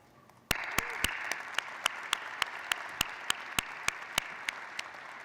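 Applause greets a list of university trustees at a Hofstra mid-year commencement ceremony, a steady wash of clapping from a large audience that begins abruptly and continues evenly throughout.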